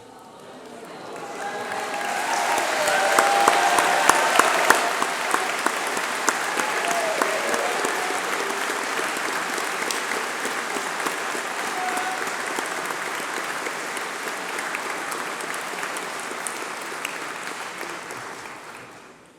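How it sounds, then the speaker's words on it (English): At a UCLan graduation ceremony, the hall breaks into applause for former course reps and school presidents as they stand. The clapping swells within a few seconds, stays loud and sustained, and eases slightly toward the end. "please stand up while we give you a round of applause"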